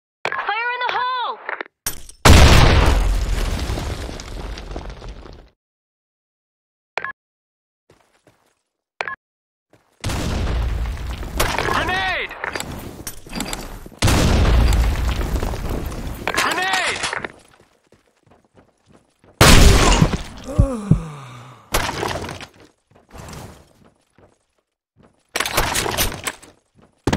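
Grenade blasts from a video game burst out in several loud, sharp bangs with crashing, shattering tails, separated by silent gaps, while game voices call out between them.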